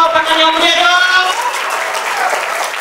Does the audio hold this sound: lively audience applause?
yes